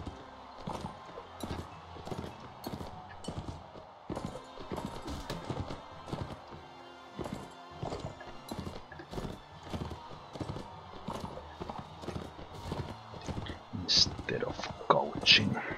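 Horses gallop in a Mount & Blade Warband tournament fight, a fast, steady clip-clop of hooves with sharp clashes near the end and someone speaking over it.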